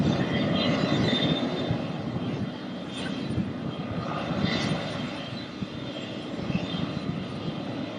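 A propeller airplane sits on the ground before takeoff as its engine revs, giving a loud, steady droning roar with slight pulsing swells over several seconds.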